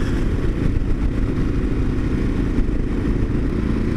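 A 2022 Kawasaki KLR 650 motorcycle is ridden, its single-cylinder engine giving a loud, steady, close-up drone with faint road clatter and no voices.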